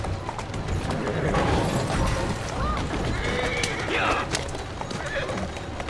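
Horse in the Assassin's Creed Syndicate video game neighs several times while its hooves clip-clop steadily, a voice talking over the sounds.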